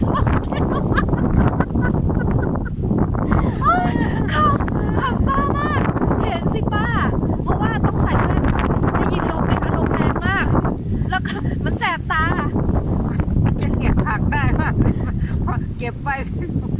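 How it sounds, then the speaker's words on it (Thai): Strong wind blowing across an open outdoor field while wild vegetables are picked, producing a steady, loud roaring rumble of wind buffeting the microphone throughout, with someone talking over it. "วันนี้ลมแรงนะคะ"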